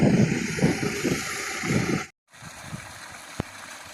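Groundwater gushes from a well pipe driven by a solar-powered pump at a newly installed borehole in northeastern Thailand, a steady rushing, gurgling flow up close that cuts out briefly, then returns quieter with a faint click.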